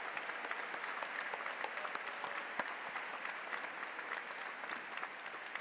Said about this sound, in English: Please join me as we applaud their support and dedication to the success of our students.